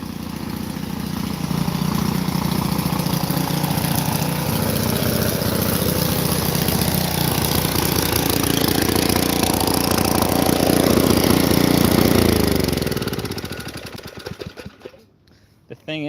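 A small lawn mower engine runs loud and steady at a raised idle with a lumpy, hunting beat. Near the end it dies down and cuts out, leaving near silence.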